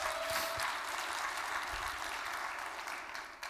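A crowd at a talk applauds for ACT UP with sustained, dense clapping that holds steady, then gradually thins and fades toward the end.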